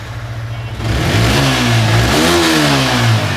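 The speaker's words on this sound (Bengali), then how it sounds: "কি মনে হলো সাউন্ড ভাই চমৎকার চমৎকার সাউন্ড ভাই এটা আনটাচ ইঞ্জিন" A motorcycle engine idles, then revs up loudly and holds a high, rough roar, close by.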